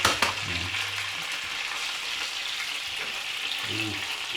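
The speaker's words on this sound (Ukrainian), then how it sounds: "Аня буде смажити грибочки" Steady, hissing sizzle of chanterelle mushrooms frying in oil in a pan, loud and close, with a brief low voice near the start and again near the end.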